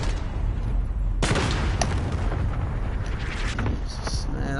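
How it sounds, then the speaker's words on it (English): Enemy cruise missile strike in Call of Duty Modern Warfare online play, a loud sudden blast after about a second followed by rumbling debris and scattered crackling gunfire. "Enemy cruise missile incoming."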